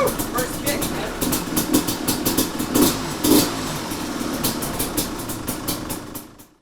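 A two-stroke dirt bike engine fired up on the first kick runs with a rough, rattling idle and sharp popping revs, close and loud, before dying away at the end; someone speaks over it.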